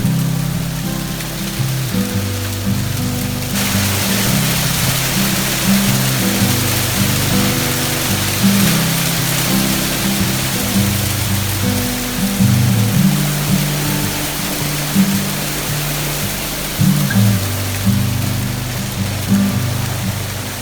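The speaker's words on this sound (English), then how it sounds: "we never ever expected to experience hail on a yacht" Hail pelts a yacht in a storm, a loud, dense and unbroken patter over a low, droning rumble of wind and motion, without any voices.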